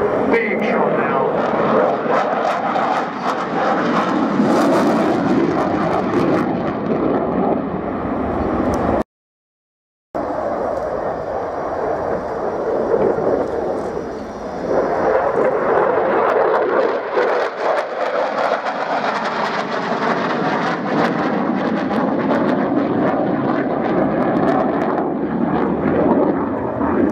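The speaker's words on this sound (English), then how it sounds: "A very impressive solo jet display." A Swiss solo jet display at the Yeovilton Air Day air show, with a loud, continuous roar from the passing aircraft that swells and fades, while an announcer talks over it.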